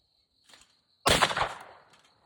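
A shotgun fires once at a clay target about 30 yards out, a sharp loud blast with a quickly decaying tail, preceded by a faint click and over a thin steady background tone.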